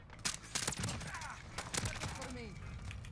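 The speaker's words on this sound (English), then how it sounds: "All right, now we have an automatic pistol." An automatic pistol in Call of Duty Modern Warfare fires quick, sharp bursts of closely spaced shots in two clusters, punchy and near, with game sounds and a voice talking in between.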